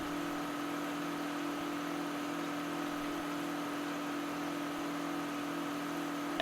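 A steady, even drone from a 900-horsepower tractor engine in Farming Simulator 2013, running at a constant hum for several seconds with no talk, ending in a short louder burst.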